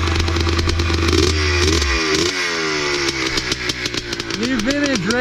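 A 1976 Yamaha YZ400 vintage race motorcycle engine fires and runs with a loud, close, rapid popping beat that steadies into an uneven idle, while someone talks over it near the end.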